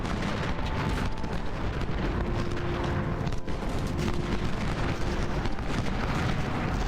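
Artillery fire in the Civil War strategy game Ultimate General at Second Bull Run, a continuous dense rumble of cannon and musketry with faint booms rolling beneath, steady and moderately loud throughout.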